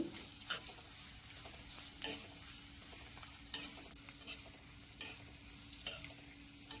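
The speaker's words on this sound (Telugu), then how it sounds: "తర్వాత కరివేపాకు, కొద్దిగా పచ్చిమిర్చిని కూడా వేసేసుకొని ఇవన్నీ బాగా ఫ్రై చేసుకోవాలి." Curry leaves, green chillies and asafoetida frying in oil for a pongal tempering, a faint continuous sizzle broken by regular sharp scraping strokes of a spoon against the pan.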